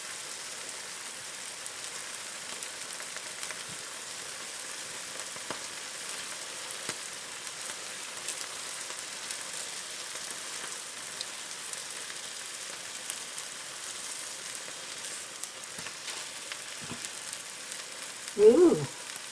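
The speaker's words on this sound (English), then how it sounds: "Put a bunch of eggs in a blender, blend them up, pour a little egg into each one." Beaten eggs sizzle in a breakfast sandwich pan, a steady soft hiss and crackle that continues throughout, with a brief louder clatter near the end.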